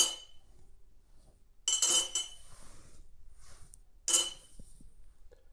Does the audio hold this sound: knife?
yes